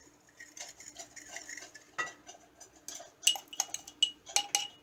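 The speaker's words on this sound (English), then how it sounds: "I'm just going to go ahead and whisk that together" Ingredients with sugar being whisked together in a bowl: quick, light metallic clinks and scrapes in an irregular rhythm, growing denser and sharper toward the end, close and fairly quiet with no talking.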